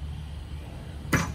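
A Rawlings ICON BBCOR baseball bat, 2023 model, strikes a ball with one sharp, loud crack near the end, rising out of quiet background.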